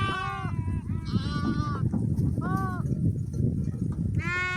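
Several lambs bleat nearby, high wavering cries overlapping one another over a constant rumble of background noise, with a few calls rising above the rest.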